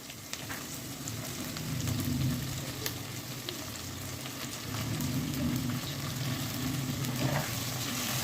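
Prawns frying in a salted pan, with a steady, moderately loud sizzle and crackle of oil and intermittent stirring scrapes and light clicks.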